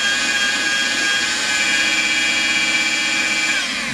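A detailing polisher spinning its damp pad at about 1,500 RPM to throw off lint, a loud, steady whirring motor whine with a high tone that holds, then begins to wind down.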